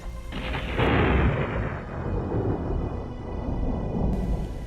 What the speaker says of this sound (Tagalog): Patuloy din ang malakas na pagkulog at pagkidlat.